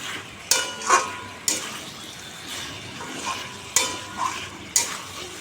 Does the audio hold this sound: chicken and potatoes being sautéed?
yes